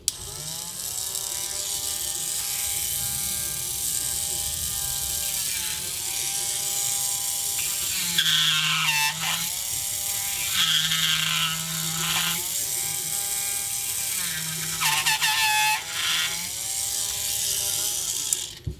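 A rotary tool grinds steadily with a high buzzing whine while rounding out a prop claw blade with an eighth-inch bit, close and continuous, its pitch dipping briefly several times as the bit bears into the material.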